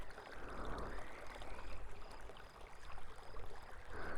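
Gentle running water in a close binaural ASMR setting, a soft continuous trickle and splash with a steady wash of noise, no voice over it.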